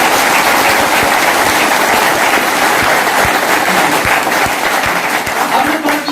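Loud, sustained audience applause fills a hall at a direct-selling (RCM) motivational talk, a dense continuous wash of many hands clapping throughout with no speech on top.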